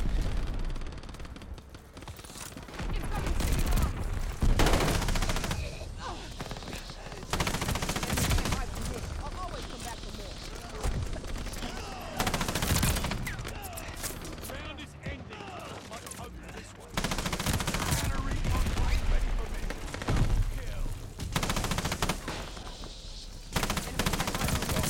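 Bursts of rapid KG M40 rifle fire from the video game Call of Duty Vanguard crackle loudly in repeated volleys with short gaps between them, mixed with other in-game gunfire and effects.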